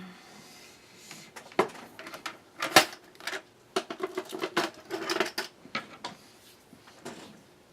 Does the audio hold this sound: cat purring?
no